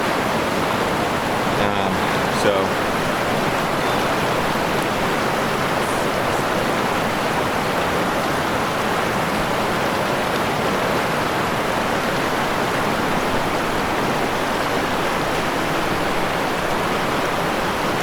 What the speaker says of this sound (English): So right away, we got a river crossing